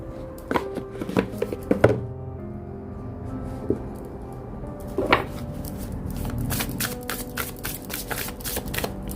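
Tarot cards shuffled by hand in quick riffling bursts with short pauses between them, crisp and close, with a few soft taps and no speech.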